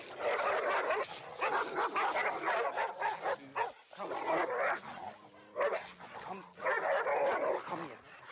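A reactive dog barks, yips and whimpers in repeated agitated bursts, stirred up by the presence of unfamiliar dogs during a problem-dog training session, with short pauses between outbursts.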